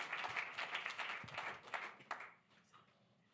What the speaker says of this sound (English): Please give Jorge a round of applause, because he has done an amazing job on this.